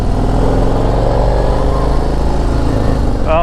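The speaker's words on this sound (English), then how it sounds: "I want you guys to hear this exhaust while it's on, because it sounds amazing" A deep, steady exhaust from a 2024 Harley-Davidson CVO Road Glide idles loudly and evenly, a thick rumbling pulse with no revving.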